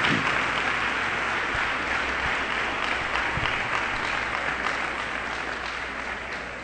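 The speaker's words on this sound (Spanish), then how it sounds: "den el aplauso al Señor." A church congregation applauds during a Nicaraguan evening vigil service, producing a steady, sustained roar of many hands clapping together at moderate loudness, with no talk standing out above it.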